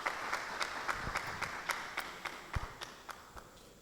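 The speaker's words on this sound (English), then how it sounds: "A round of applause, please." Applause from an audience at a community event, heard faintly as a sparse series of separate, evenly spaced claps with a steady rhythm.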